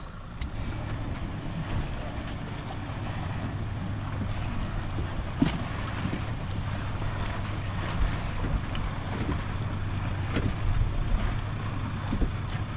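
Continuous low engine drone of a motorboat idling on a lake, with wind buffeting the microphone and faint water sounds throughout.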